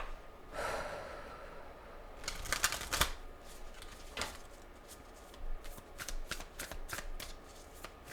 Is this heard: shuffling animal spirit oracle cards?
yes